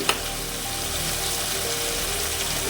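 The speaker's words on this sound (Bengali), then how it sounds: "গোটা এলাচ লবঙ্গ আর দারচিনি এটা আমি ফোড়ন দেবো একটু আর আদাটা দিয়ে দিচ্ছি জিরে গুঁড়ো দিচ্ছি" Whole cardamom, cloves and cinnamon with ginger and cumin powder sizzle in hot oil for a wedding-style stuffed aloo dum, a steady, close, continuous hiss and crackle with no voices.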